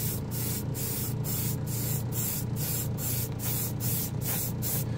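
Copper shade of Ammo A-Stand metal paint sprayed from an airbrush, heard as about a dozen short, even hissing bursts in a steady rhythm. A constant low hum from a compressor or extractor fan runs underneath, and no one speaks.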